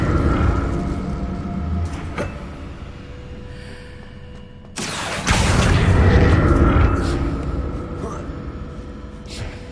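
A fire spell in the Hogwarts video game bursts out with a sudden loud whooshing roar midway, following quieter magical rumbles and effects.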